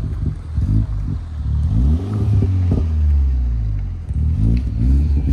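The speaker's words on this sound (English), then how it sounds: "Someone hop in and give it a little rev." A Suzuki Vitara engine revs up and down in several rising and falling surges, loud and close, with a rough, throaty exhaust note.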